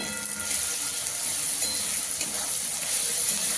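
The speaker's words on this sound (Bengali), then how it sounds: "টমেটো আর পেঁয়াজ প্রায় কষানো হয়ে গেছে" Tomato and onion frying in a pan, with a steady soft sizzle and faint stirring that stay at an even, moderate level throughout.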